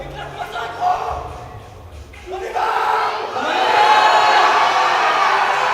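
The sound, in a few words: crowd cheering at a powerlifting championship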